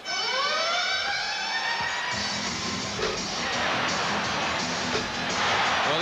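A siren blares over a cheering arena crowd during the 1988 NBA Three-Point Shootout, a steady loud tone rising and holding while crowd noise swells underneath.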